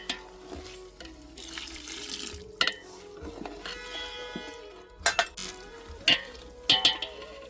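Water goes into a hot pan of gravy with dry spices for kaju ghathiya curry, a hissing sizzle with bursts of splashing and pouring, plus a few clanks of a utensil against the pan.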